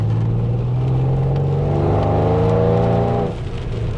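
A Mercedes C63 AMG rated at 630 horsepower rumbles close by with a deep, steady engine drone that swells slightly before dropping back to a lower idle near the end, with no voices over it.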